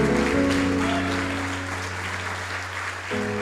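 A church congregation claps after a prayer in Portuguese, a broad steady wash of applause that carries on over a sustained organ or keyboard chord.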